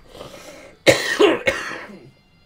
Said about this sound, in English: it bloody hurts to cough